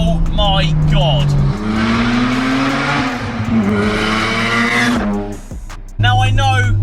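A turbocharged Mazda RX-7 FD rotary engine, about 410 bhp with a straight-through exhaust, revs hard nearby, its pitch climbing and dropping through gear changes, loud and buzzy, with a brief lull before it roars again.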